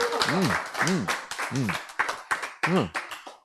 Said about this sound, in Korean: 박수 보자. 저 박수.